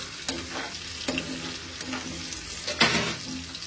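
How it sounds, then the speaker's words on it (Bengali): Onions fry in oil in a pan with a constant sizzle, broken by a few sharp scraping stirs that come at irregular intervals. "এই যে আমার পেঁয়াজগুলো ভালো মতো ভেজে নিচ্ছি"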